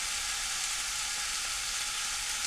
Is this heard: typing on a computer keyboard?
no